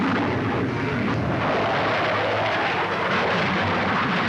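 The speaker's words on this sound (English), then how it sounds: "This is the F-104, powered by a new and more powerful jet engine." A Lockheed F-104 Starfighter jet fighter with a powerful jet engine roars past, a loud, broad, continuous rushing thunder of engine noise filling the whole clip with no voices.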